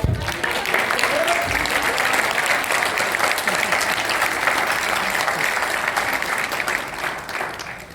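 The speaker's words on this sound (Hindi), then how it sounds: "एक बार हमारे हरियाणा के भाई के लिए बहुत अच्छी वाली ताली बजाइए" An audience at a naturopathy seminar in Delhi breaks into sustained applause, a dense, even roar of many hands clapping that holds steadily for several seconds before tapering slightly, with a voice briefly heard at the start.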